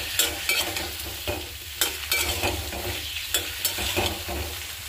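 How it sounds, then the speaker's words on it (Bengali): Vegetables sizzle steadily in a pan as a utensil stirs them, giving repeated scraping knocks every half second or so over the constant crackle; nobody talks. "সবজিটা কি সুন্দর ভেজে নিতেছি"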